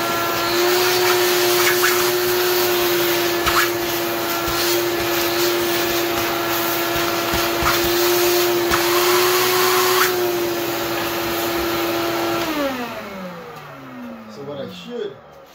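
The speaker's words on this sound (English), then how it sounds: "I'll use a vacuum cleaner. So let me vacuum this instead." A loud vacuum cleaner whines steadily up close for several seconds, then winds down as the motor shuts off, with faint knocks at the end.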